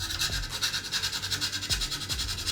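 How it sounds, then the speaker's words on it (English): Sandpaper or a nail file worked back and forth on a plastic Game Boy back shell beneath the contrast button, giving quiet, steady, rhythmic scraping strokes close up. "use a little bit of sandpaper or a nail file to get rid of this little section on the contrast button"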